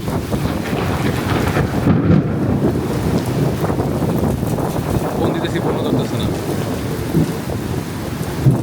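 A thunderstorm brings a heavy, steady roar of rain and gusting wind, with low rumbles of thunder underneath. A person talks over the constant loud noise.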